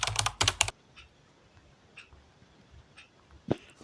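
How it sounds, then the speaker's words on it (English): Keys clatter on a computer keyboard in quick bursts as a phone number is entered, followed by scattered single soft keystrokes in a quiet room. "Then put in your country code here and type in your number."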